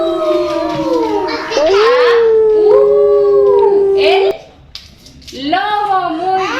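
Voices imitate a wolf howl in a long, wavering, rising-and-falling call that is loud and close. There is a brief pause, then the howl starts again.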